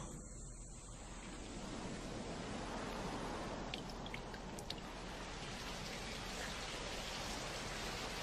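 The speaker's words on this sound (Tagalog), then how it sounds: "Umuulan kahit may araw." Steady, even rain falling while the sun shines, a continuous broad hiss with no break and no voices.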